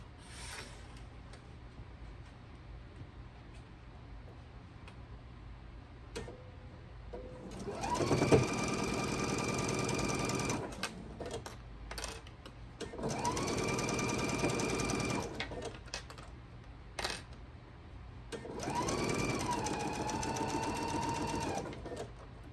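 A sewing machine stitches a scant quarter-inch quilt block seam in three steady bursts of rapid whirring and needle chatter, separated by quiet pauses with small handling clicks.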